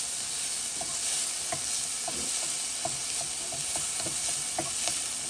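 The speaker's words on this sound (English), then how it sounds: "Just want to stir them" Onions sizzle gently in a pan over low-medium heat with a continuous soft hiss. Irregular spoon taps and scrapes sound close by as they are stirred.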